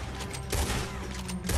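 Gunfire in Red Dead Redemption 2 during a barn shootout: loud, dense bursts of shots with a heavy low boom, clustered near the start and end, with no talk.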